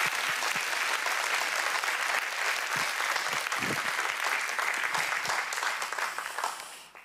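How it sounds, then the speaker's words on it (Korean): A church congregation claps steadily in welcome as an elder comes forward, a full, even roar of hands with a few sharper near claps, tapering off at the very end. "박수로 환영하시겠습니다"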